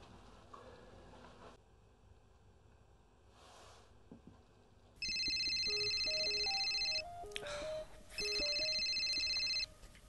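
A telephone rings indoors in two loud electronic bursts, separated by a short pause, over quiet room noise with faint knocks and shuffling.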